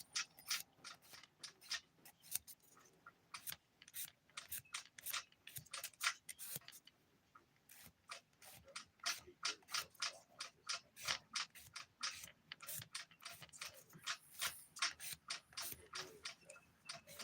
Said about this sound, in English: let me just file it across and then file it